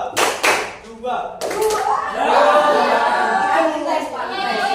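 Hand claps in a classroom counting game led by a teacher, a few sharp claps at the start followed by a burst of group clapping, with children's chatter and voices throughout.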